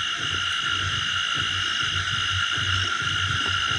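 Insects chirp in a steady, layered high drone near a banyan tree at night, with a pulsing croak-like rhythm repeating underneath, loud and close, with no talk.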